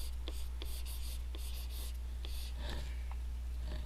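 Marker strokes squeak and scratch on a board while organic chemical names are written out, a series of short irregular strokes over a steady low hum, with no talking.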